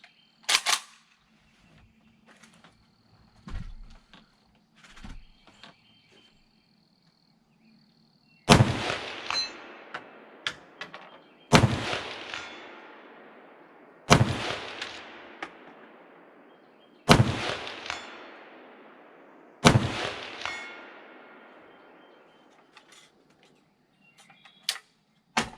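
A Century Arms VZ-2008 rifle, a VZ-58 clone, fires single shots at a 200 target outdoors, five loud cracks spaced a few seconds apart, each followed by a long rolling echo, with a few fainter handling clicks before them.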